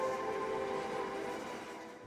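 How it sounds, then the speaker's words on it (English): A noisy freight train passes at Asquith Station in suburban Sydney, near a national park, giving a steady rumbling roar with a sustained tonal whine that slowly fades over a couple of seconds. "my local train line with the really noisy freight trains"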